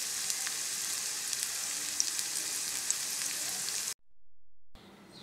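Loud, dense sizzle of a hot oil tempering as cooked masoor dal with jute leaves is poured in, crackling steadily for about four seconds before cutting off abruptly, followed by a brief dull tail.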